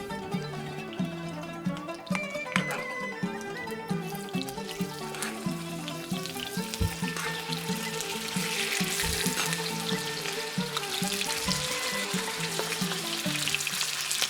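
Chicken pieces frying in melted fat in a pot, a steady close crackling sizzle with scattered pops that grows slightly louder and denser toward the end, with no talk.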